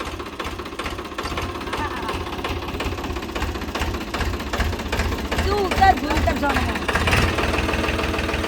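A tractor engine runs steadily with a knocking, chugging rhythm at a farm field during ploughing work, close and constant, while people talk over it.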